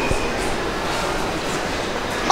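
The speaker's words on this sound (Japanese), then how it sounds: "駅止まりの電車が参ります。" A Keihin-Tohoku Line train rumbles steadily into platform 1 at JR Omiya Station with a broad, continuous roar and faint squealing tones, heard up close without pause.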